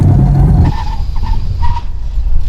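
A car brakes hard during a stopping-distance test on a track: a loud, rough rumble of engine and tyres cuts off sharply, then a thinner tyre whine and road noise carry on at a steady level.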